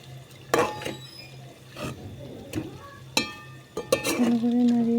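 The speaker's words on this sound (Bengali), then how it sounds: "এবার নাড়িয়ে চাড়িয়ে ভালো করে মিশিয়ে নেব" Spices stirred and mixed in a frying pot, with intermittent scraping and clinking strokes of a spoon against metal over a low sizzle, ending in a brief sustained tone.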